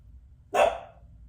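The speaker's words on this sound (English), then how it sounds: "You just heard my one of my small dogs here" A single sharp bark from a small dog, close and loud, standing alone against a quiet background.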